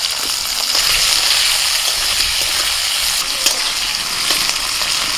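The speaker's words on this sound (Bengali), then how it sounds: "এবার দিয়ে দিচ্ছি পেঁয়াজ, আর পেঁয়াজগুলোকে আমি একটু বড় বড় করে কেটেছি।" Large-cut onions hit hot oil already seasoned with a dried red chilli, bay leaf and whole cumin, giving a steady, loud, close sizzle with faint stirring scrapes and no voices.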